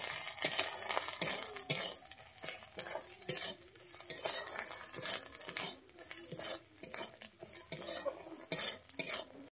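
Ground spices, turmeric and chili powder, fry in a pan for a Bengali lau kofta curry while a metal spoon stirs and scrapes rhythmically, quiet tapping and scraping over a soft sizzle, no speech.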